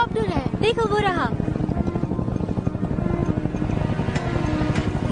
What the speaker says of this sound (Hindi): हाँ, ये हेलीकॉप्टर है, देखो वो रहा।